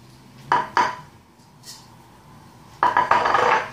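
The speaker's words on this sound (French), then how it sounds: "je bats jusqu'à ce que mon mélange devienne mousseux" Eggs, a pinch of salt and sugar are beaten with a whisk in a bowl for a chocolate cake batter: two short clattering bursts of metal against the bowl, a pause, then a longer steady run of brisk scraping strokes.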